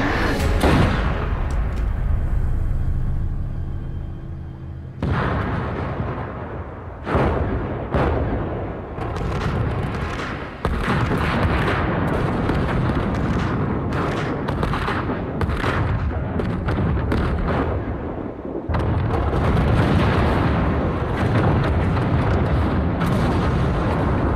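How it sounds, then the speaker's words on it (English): Repeated loud explosions blow up an island in an action TV drama scene, heavy booms and rumbling blasts arriving in bursts with brief quieter gaps between them. "You show up the island being blown up, all of his friends possibly being killed in explosions."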